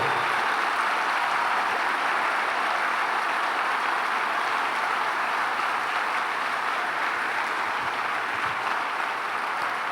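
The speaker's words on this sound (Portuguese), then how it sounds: "Fique em pé e aplauda Jesus bem forte. Aplauda com alegria, com júbilo." Church congregation standing and applauding during a Pentecostal worship service, a steady, dense wash of clapping that holds evenly for the full ten seconds with no talk over it.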